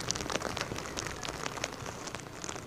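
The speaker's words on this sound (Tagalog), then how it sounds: "Kasabay ng malakas na buhos ng ulan," Heavy typhoon rain in the Philippines falls steadily in a close, crackling patter of drops hitting a surface, with no voices.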